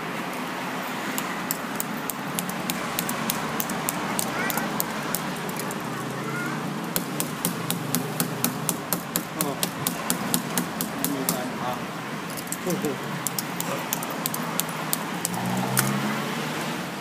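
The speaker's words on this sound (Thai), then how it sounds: "ต่อไปทดสอบคัตเตอร์" A utility knife blade scratches repeatedly across a phone's safety screen film, making a fairly quiet series of sharp scraping clicks in uneven bursts against faint room noise.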